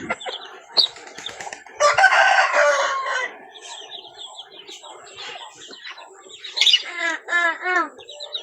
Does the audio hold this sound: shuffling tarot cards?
no